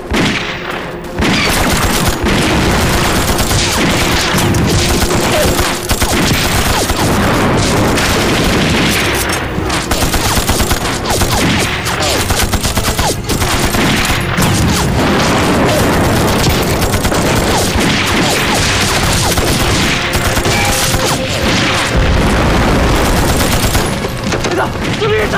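Battle scene from a war film: relentless machine gun fire and booming explosions fill the whole stretch, loud and dense, with shouted voices mixed in.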